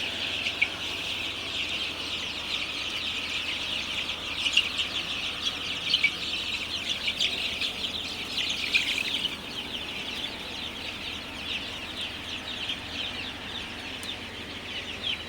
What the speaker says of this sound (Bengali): তো আপনারা দেখতে পাচ্ছেন মুরগির বাচ্চাগুলো পানি খাইতেছে